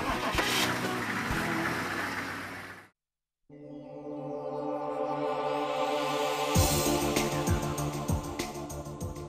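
A car on an outback self-drive holiday cranks and its engine catches after a brief pause, then settles into a steady close idle before revving up as it pulls away; no talking.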